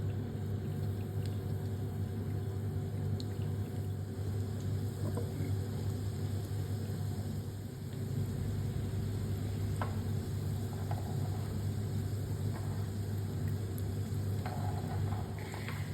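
Breadcrumb-coated popcorn shrimp fry in hot oil over medium-low heat, a steady low bubbling hiss that runs unbroken throughout with occasional faint clinks, no talking.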